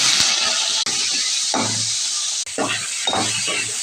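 Loud, steady sizzling of soaked dried fish frying in hot sesame oil, with bursts of crackling and clinks as pieces are stirred in the pan.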